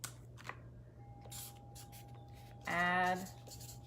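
A pen or marker scratching out a short handwritten note in a kitchen, one busy stretch of close scribbling under a faint steady hum, with a voice speaking briefly.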